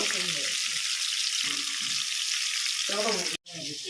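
Fish fries slowly in a pan, giving an even, hissing sizzle that runs under intermittent voice sounds and drops out briefly near the end.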